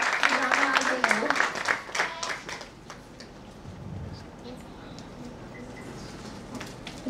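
A burst of applause from a crowd for the chief guest at an event fades out after a few seconds, leaving quiet room murmur and scattered faint sounds.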